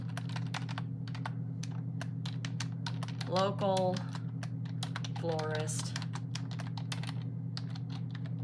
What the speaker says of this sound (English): My typing's a little slow.